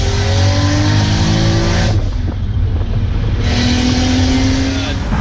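Turbocharged 2JZ engine in a Lexus SC430 running 40 psi on a stock engine, revving hard and loud up close with rising, dipping engine tones, a brief drop between pulls, and some voices under the roar.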